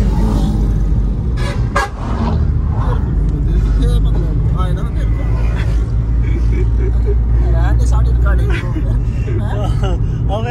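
A car pulls away on a street trip through Narowal, its engine rumbling steadily throughout while horns toot nearby, with people talking over the traffic noise.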